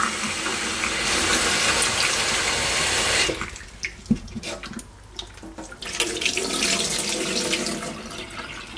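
Tap water runs loudly into a black and white film developing tank, a steady broadband rush that cuts off abruptly partway through, followed by quieter drips and splashes before the flow builds again.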